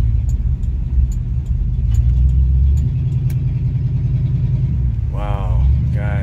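A cheap Oldsmobile car drives under its own power after a new transmission fill, a loud continuous low engine rumble up close with a few faint ticks, and a short burst of talk near the end.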